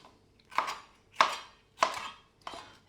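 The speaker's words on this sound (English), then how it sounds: "And then we're going to go in, just cut them into sort of wedge sizes." A knife chops bell peppers into wedges on a cutting board, landing four sharp, evenly spaced strokes close by with short pauses between them.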